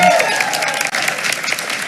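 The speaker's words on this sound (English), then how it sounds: "let's give her a big round of applause" An audience applauds at a school board meeting, a dense burst of clapping that fills the room and carries on steadily for the full length, with voices mixed into the crowd.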